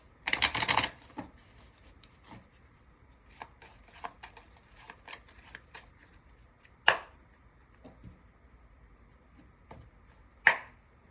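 Tarot card shuffling in a quick riffling burst at the start, then scattered soft taps and slaps of cards, with two sharper snaps later on.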